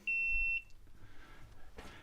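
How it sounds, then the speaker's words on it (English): A helmet camera gives a single sharp, high-pitched low-battery beep lasting about half a second, loud and close, inside a mine, followed by quiet rustling. "that beep that you're hearing right there, that's my helmet cam that just ran out of battery"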